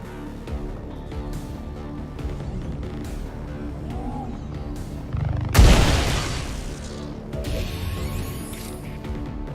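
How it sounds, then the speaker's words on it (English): In the XCOM 2 video game, a combat protocol attack strikes a turret, landing as one heavy boom about midway. It rises out of a low, rumbling game soundscape and fades over a couple of seconds. "Lily, I need you to combat protocol that turret."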